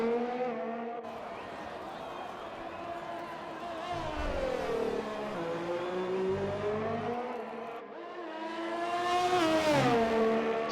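A Ferrari race car in a racing game at Azerbaijan braking hard downhill and then accelerating, with a steady, loud engine whine that dips and climbs in pitch, continuous throughout with a voice under it.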